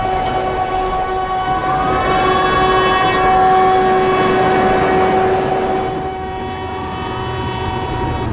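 Train on a narrow-gauge mountain railway in Himachal Pradesh, a sustained loud horn blast over the steady rumble and rattle of the cars, close by.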